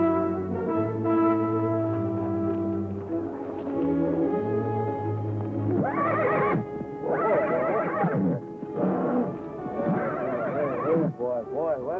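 A horse whinnies loudly in a long, wavering call, followed by several shorter neighs in a western-era setting, with a voice speaking over parts of it.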